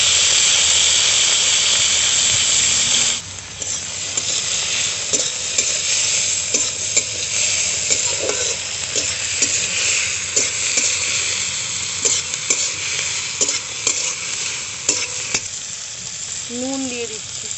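Cumin, green chilli, capsicum, tomato and onion fry in mustard oil in a pan for a shrimp and aubergine dish: a steady close sizzle with repeated stirring scrapes and knocks, and a short squeak near the end.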